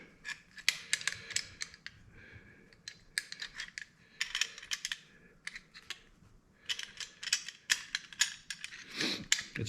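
Metal parts of an M1 carbine, the bolt and operating rod, click and scrape as they are worked together by hand, producing a quiet, close series of irregular sharp metallic clicks and taps with brief pauses.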